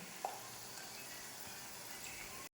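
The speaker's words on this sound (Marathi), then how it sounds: "जास्त मोठा गॅस न ठेवता थोडा बारीक गॅस करूनच याला हळूहळू तळून घ्या." Potato chips fry gently in oil over a low flame, giving a soft, even sizzle with one small pop near the start before the sound cuts off abruptly.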